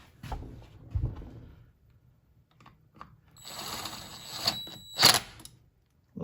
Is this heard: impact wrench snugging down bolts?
yes